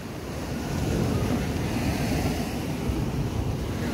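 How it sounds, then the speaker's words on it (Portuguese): Sea waves break continuously in front of an abandoned coastal fort at Pau Amarelo, a broad, steady roar of surf mixed with wind buffeting the microphone, with no voices. "E como vocês podem escutar, ó, o barulho, o mar fica de frente, gente, para o forte."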